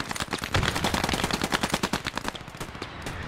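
Rapid gunfire in the World War II shooter Post Scriptum, a dense, steady burst of close automatic shots rattling continuously for a few seconds, with no talk over it.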